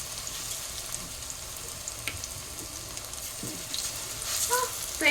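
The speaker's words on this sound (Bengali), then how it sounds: "সন্ধ্যাবেলা একটুখানি কফি বানাবো আর একটু পকোড়া ভেজে নিচ্ছি।" Pakoras frying in a pan of hot oil for an evening snack in a home kitchen, giving a steady soft crackling sizzle with occasional brief clinks and a slightly louder burst near the end.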